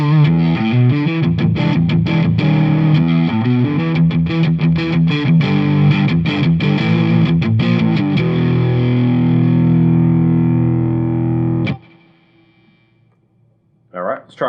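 An LTD ST 213 electric guitar by ESP played through heavy distortion, thick chugging chords and sustained notes ringing loud and close for about twelve seconds before fading, then a voice briefly speaks.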